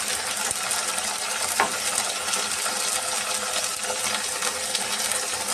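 Turmeric and chili spices sauté in a pan for a fish curry, giving a steady, close sizzle with light scraping and clinks and no talking.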